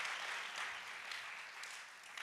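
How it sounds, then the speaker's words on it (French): A conference audience in a worship session gives a round of applause, a continuous dense patter of clapping at moderate distance, somewhat faint, with no voices over it. "Give the Lord a hand clap"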